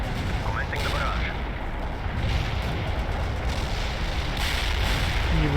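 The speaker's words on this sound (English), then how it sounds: "Artillery strike on the way. Commencing the barrage." Artillery barrage in World in Conflict, a continuous loud rumble of explosions and gunfire, dense and sustained throughout with a few brief tonal radio or unit sounds on top, no clear talk.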